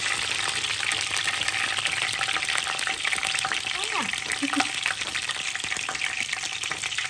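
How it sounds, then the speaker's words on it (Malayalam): Prawns sizzle in coconut oil with curry leaves, a steady, fairly close crackling hiss throughout, with a faint voice sounding briefly partway through. "പൊരിക്കുന്നതിൽ കറിവേപ്പിലിട്ടോ നല്ല ടേസ്റ്റാണ്"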